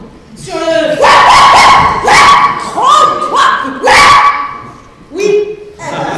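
A stage actor imitates a dog barking during a Feydeau farce, delivering a loud, close series of five or six yapping barks in an uneven rhythm, with brief pauses between them.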